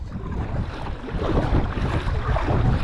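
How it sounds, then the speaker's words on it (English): Strong wind buffets the microphone while a kayak is paddled out on open water in a windstorm, a dense roaring rush with splashing water underneath and no voices. "As soon as I paddle, the wind picks up."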